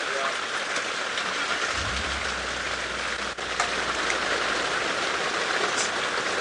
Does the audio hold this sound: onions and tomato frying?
no